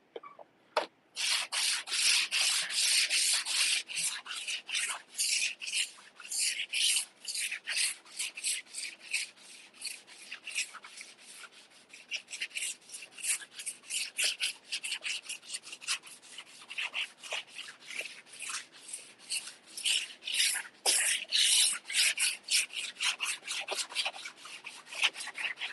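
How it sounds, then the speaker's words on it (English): Car body work: old side skirts are sanded by hand, a close, continuous scratchy rasp of quick back-and-forth strokes that runs on with brief pauses. "time to get started on the sanding"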